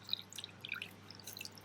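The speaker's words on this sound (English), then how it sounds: "we're going to drain the water out of this pumice" Water drains from wet pumice in a plant pot, producing faint, scattered drips and small trickling patters in a quiet room.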